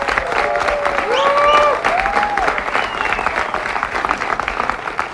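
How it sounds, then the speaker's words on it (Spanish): A Spanish-language talk show's studio audience breaks into loud, dense applause, with whistles and cheers rising over the clapping before it slowly thins out. "vamos a recibirlo con un fuerte aplauso"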